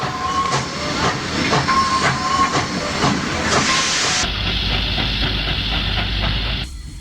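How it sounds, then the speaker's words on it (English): Illinois Central Berkshire class 2-8-4 steam locomotive easing slowly past a train held in a siding, loud steady hiss and rumble with rhythmic exhaust beats, then a shift to a sustained hiss and roar. "Here we see a southbound hold up in a siding as a northbound pulls slowly past."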